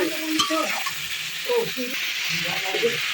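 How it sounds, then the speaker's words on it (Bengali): Drumstick pieces are being sautéed with spices in a pan for a lentil dish, giving a soft, steady sizzle under a voice, with a brief utensil clink near the start. "এবার সজনে ডাটা দিয়ে দিই এবার এটাকে ভালো করে কষিয়ে নেব"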